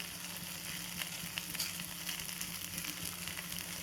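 Sweet corn cutlet mixture roasts in a pan with a low, even, continuous sizzle and faint crackles, heard close and on its own without speech.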